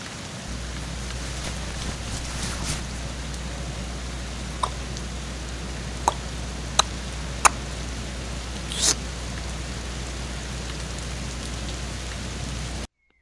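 Foley rain sound effect made for a short animated piece: a steady, continuous hiss of falling rain with a low constant rumble beneath, a few isolated louder drops or clicks scattered through, no voices.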